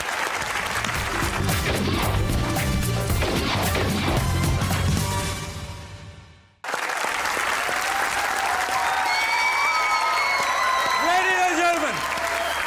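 A studio audience at a comedy talk show claps loudly and steadily, the applause fading out midway before a burst of music, stingers and voices takes over.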